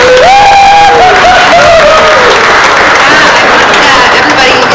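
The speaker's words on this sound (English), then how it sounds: "please give a huge round of applause to Kristen Sokolov" An audience at a community forum breaks into loud, sustained applause for a speaker named Kristen Sokolov, with whoops and cheers rising over the clapping and crowd voices mixed in.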